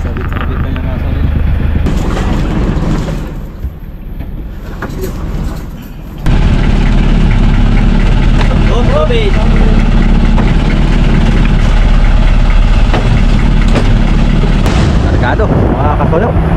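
Engine of an old wooden boat, about seven years old, idling loudly and steadily up close, a heavy low rumble that steps up in level partway through, with someone talking over it.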